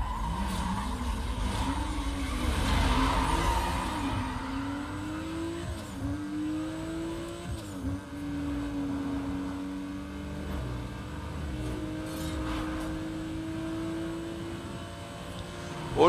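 Race cars accelerate in a drag race in the video game Need for Speed Most Wanted 2005: a loud engine drone rises steadily in pitch through gear shifts, with brief tire squeals, and no speech over it.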